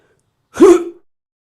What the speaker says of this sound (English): I was trying not to sneeze on live